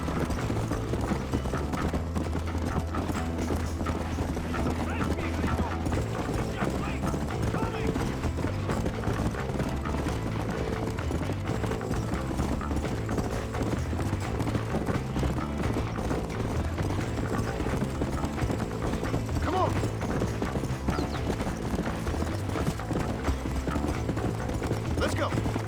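Rapid, rhythmic hoofbeats of a galloping horse in Red Dead Redemption, loud and continuous throughout, with a steady driving clatter that never lets up.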